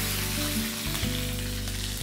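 Curry leaves dropped into hot oil with mustard seeds, a loud continuous sizzle and crackle with a brief spluttering dip and low hum underneath, no talking.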